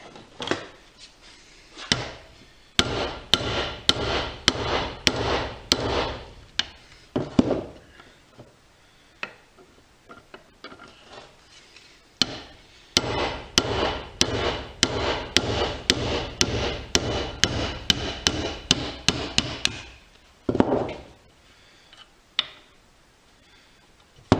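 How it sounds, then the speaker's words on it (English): Bursts of sharp metallic hammer blows knocking a bearing out of a Honda TRX450R shock, struck in rapid rhythmic runs with a couple of short pauses between series. "take a hammer and knock that bearing out"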